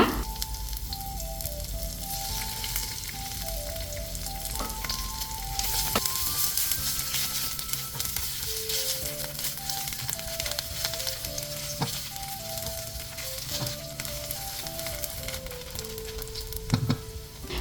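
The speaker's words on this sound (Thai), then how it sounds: "ตั้งกระทะใส่น้ำมันมะกอกไปประมาณสักหนึ่งช้อนโต๊ะกระเทียมสับ แล้วก็เห็ดหอมที่เรา ซอยไว้ลงไป ผัดทุกอย่างให้หอมดีเลยนะคะ" Continuous crackling sizzle of chopped garlic and sliced shiitake mushrooms stir-frying in olive oil in a wok, steady and close, with soft music playing throughout and no talking.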